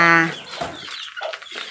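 A sharp, high chirp opens, followed by softer, scattered clucking and peeping from chickens and chicks nearby.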